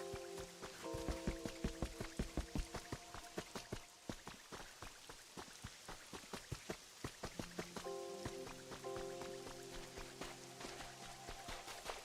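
Rain falling in the game Pokémon Pokopia, a dense patter of scattered drops and taps over a steady wash, with soft musical tones layered underneath.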